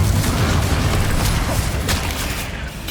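A Confringo fire-blast spell in the Hogwarts Legacy video game, a loud, dense, continuous roar and crackle of booming bursts held across the whole stretch.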